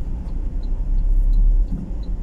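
Busy street traffic in Libertad, Bacolod City, with cars passing close by; a deep engine rumble swells in the middle and fades, with faint high squeaks over it.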